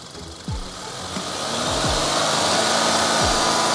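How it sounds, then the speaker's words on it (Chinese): A car engine, with an artificial air leak in front of the throttle body, climbs from idle to about 3000 rpm with the throttle held open, the rising drone swelling after a second and staying steady and loud, with a few clicks early on. "咱们现在再看一下油门加到3000转的混合气"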